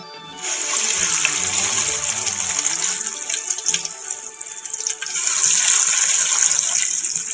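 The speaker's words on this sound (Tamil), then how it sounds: "ஸோ நமக்கு ஆயில் ரெடி ஆகிட்டு நம்ம காடை போட்டுக்கலாம்." Quail pieces frying in about three-quarters of a litre of hot oil for a Tamil-style quail fry, a steady loud crackling hiss that runs throughout with a brief dip partway, no talking.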